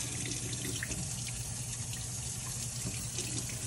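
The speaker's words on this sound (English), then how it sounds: "I'm going to turn the water off." A kitchen sink faucet runs steadily, a constant close hiss and splash of flowing water with no talk over it.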